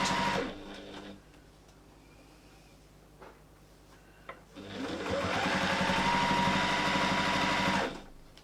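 A sewing machine stitching a seam in fabric, a brief whir at the start, then a pause and a steady, loud, sustained mechanical hum of continuous stitching for about three seconds, close up.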